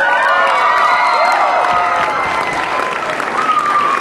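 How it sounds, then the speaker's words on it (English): At a pop concert, the audience bursts into loud applause mixed with cheers and high excited shrieks, sustained clapping under rising whoops that eases slightly after a few seconds. "Give yourselves a round of applause."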